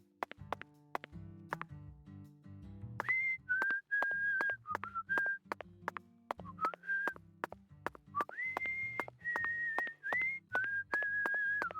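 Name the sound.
character whistling a melody in Deadly Premonition 2 video game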